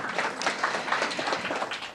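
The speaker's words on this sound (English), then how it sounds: "Round of applause" A startup demo day audience gives a round of applause, a short burst of dense clapping from many hands, moderately loud and filling the room.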